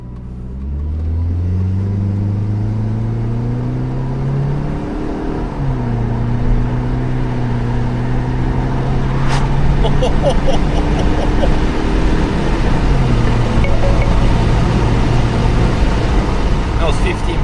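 A tuned Saab 9-5 2.3 liter turbo engine and exhaust accelerate in second gear, its drone climbing steadily through revs in repeated pulls that drop and rise again, loud and close, with someone talking over it.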